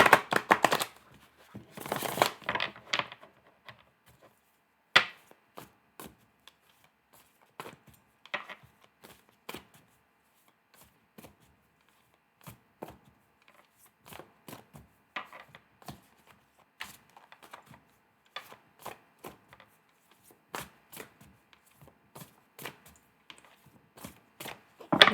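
Tarot cards shuffled by hand at close range, a brisk burst of riffling at the start followed by scattered soft slaps and shuffles spread out over a long, otherwise quiet stretch.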